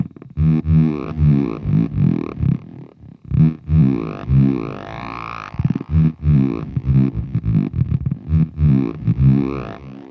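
A guitar runs through the attack synth effect of a Line 6 HX Effects unit, producing choppy, buzzy tones that swell and cut off in rhythmic bursts, loud and close.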